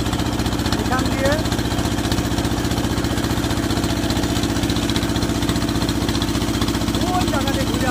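A boat motor near Bangabandhu Hi-Tech Park runs with a steady, even low drone that continues unbroken, and faint voices and other sounds are heard over it.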